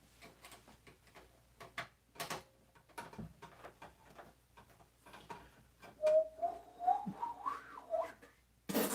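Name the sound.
person trying to whistle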